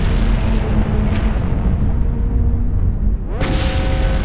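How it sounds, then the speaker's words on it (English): Deep, rumbling explosions fill a Star Wars KOTOR video game scene, a loud continuous booming roar that shifts abruptly near the end. "Explosions!"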